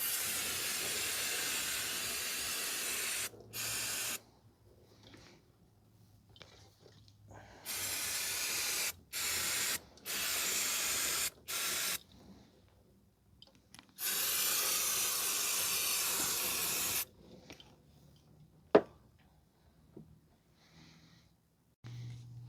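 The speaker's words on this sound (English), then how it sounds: "So now I'm just gonna spray the area down with brake cleaner" Brake cleaner is sprayed in repeated bursts onto the rear drum brake parts of a 2005 Toyota Corolla. The close, loud hissing blasts of varying length are separated by quiet gaps, with a sharp tap near the end.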